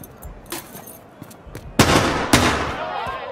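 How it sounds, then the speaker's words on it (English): In Call of Duty: Modern Warfare, a decoy grenade goes off with a string of loud, sharp firecracker-like pops and bangs. Two big bursts stand out, each trailing a crackling tail, with fainter snaps scattered before and between them. "The bloody hell is this? Decoy grenade."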